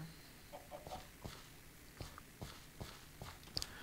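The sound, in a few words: chickens clucking in a video game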